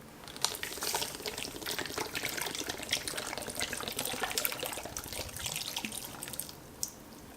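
Coconut water, 300 ml, pours steadily into a cooking pot, a continuous soft splashing trickle with small drips, fairly quiet and close, no voices.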